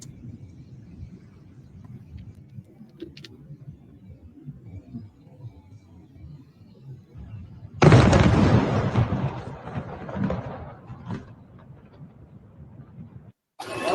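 A missile blast over Tel Aviv hits as a sudden loud boom and shockwave after a murmuring, distant background, followed by several seconds of heavy rumbling roar that slowly fades.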